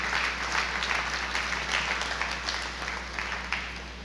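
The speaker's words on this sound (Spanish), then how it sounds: "Dale fuerte el aplauso al Señor" A church congregation gives a strong round of applause to the Lord, a steady wash of many hands clapping together, moderately loud, over a low steady hum.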